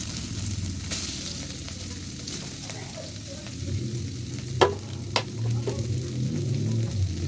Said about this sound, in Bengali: এবারে আমি এর মধ্যে পালং শাকটা দিয়ে দেবো।